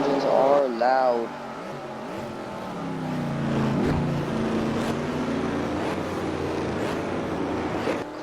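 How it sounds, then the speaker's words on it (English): Formula 1 race car engines in a virtual Australian Grand Prix racing game, including a Renault-powered McLaren, whine and rev loudly with rising and falling pitch, continuous under an excited commentator's voice. "These engines are loud."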